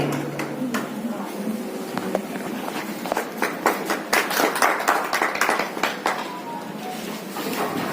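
Clapping from a gathered audience welcoming a guest at a school inauguration event, a burst of hand claps that grows denser midway, with someone speaking over it.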